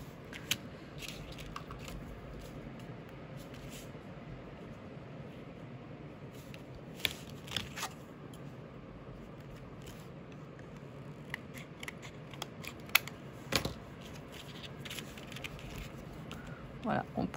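Scissors cut paper pieces for a shaker craft in short, scattered snips and small clicks, close and fairly quiet, with a soft background hum throughout.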